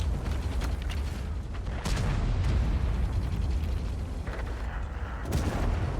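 Tank cannon fire in World of Tanks, a dense, continuous roar of booming blasts and rumbling explosions with a few sharp cracks standing out, loud and sustained throughout.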